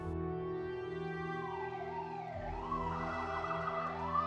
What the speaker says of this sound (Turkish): Ambulans sirenleri eşliğinde